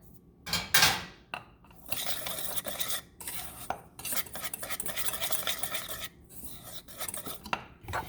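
Peach cobbler ingredients with a dash of nutmeg whisked in a bowl, a busy scraping and clinking of utensil against the bowl that runs nearly steadily, broken by a couple of brief pauses.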